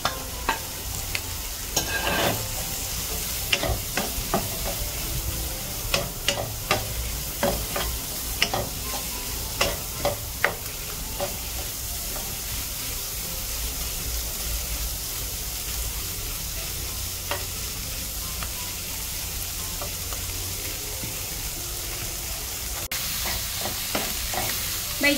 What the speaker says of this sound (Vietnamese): Bây giờ mình có trứng hồi nãy mình chiên sơ rồi, với lại cơm mình cho vô mình xào chung.